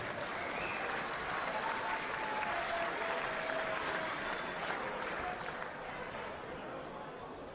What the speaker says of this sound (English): please give a real big round of applause for Raman Sukhaterin